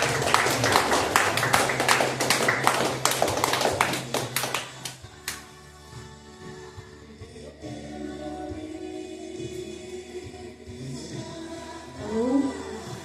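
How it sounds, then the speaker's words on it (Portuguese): Worship congregation claps hands in a dense, fast rhythmic burst during a Father's Day church service, loud for about five seconds before stopping abruptly, followed by quieter sustained music and faint voices. "Vamos receber o louvor aplaudindo a Jesus"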